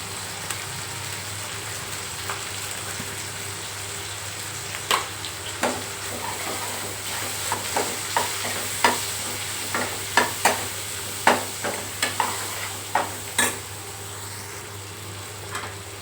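A spoon stirs sambar masala, homemade red chilli powder, onion and tomato in a pan, over a low steady sizzle. Sharp scraping and tapping clicks grow more frequent toward the middle and end.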